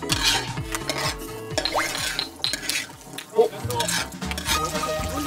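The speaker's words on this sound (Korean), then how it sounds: "튀기듯 튀깁니다" An egg fries in a pan with oil, a crackling sizzle mixed with clinks and scrapes of utensils and cookware; voices chatter and exclaim over the cooking throughout.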